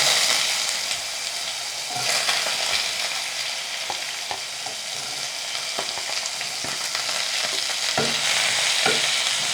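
Plantain pieces stirred and frying in hot oil for a home-cooked vegetable biryani, a steady loud sizzle with scraping spoon clicks throughout.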